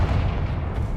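Confringo fire blast spell bursting in Hogwarts Legacy, a short dense boom with rumbling low end that fills the whole second at steady loudness.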